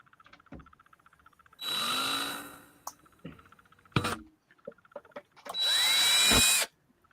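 Two bursts of a power drill whirring, each about a second long with a rising pitch at the start, separated by small clicks and handling noises.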